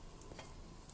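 Mustard seeds sizzle faintly in hot oil during tempering for kosambari, a soft crackle with a few small pops, with no talk.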